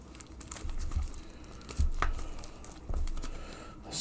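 Playing cards are shuffled by hand during a live stream, producing soft crinkly riffling and tapping in a few uneven bursts, close and fairly quiet, with no talking.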